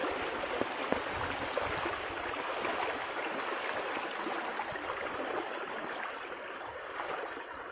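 A small village river streams along steadily, a continuous broadband rush and trickle of flowing water holding an even level throughout, with no voices.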